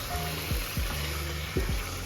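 Chicken and yogurt cook in a pan over high heat, with a soft steady sizzle broken by several quick scraping stirs, close and moderately loud with no speech.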